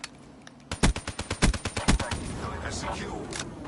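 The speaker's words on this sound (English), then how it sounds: "Man of War, probably the best AR in the game." Man of War assault rifle from a Call of Duty game firing a burst of about ten sharp, evenly spaced shots at a slower fire rate, followed by a fading tail and scattered game effects.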